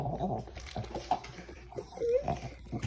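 Dog eating food from a plate, making odd snorting, grunting and whimpering noises in short irregular bursts, heard close up.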